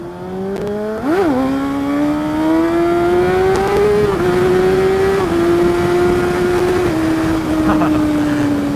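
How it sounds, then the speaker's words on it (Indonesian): A Kawasaki Ninja ZX636 sport motorcycle revs under hard acceleration for a wheelie. Its engine note jumps sharply, then climbs and holds in long, loud, close stretches with small shifts in pitch. "sekarang kita coba bentuk wheelie dulu sedikit."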